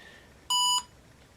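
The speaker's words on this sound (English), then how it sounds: "We got a beep." A single electronic beep from an IBM ThinkPad laptop booting, clean and tonal, lasting about a third of a second against a quiet background hiss.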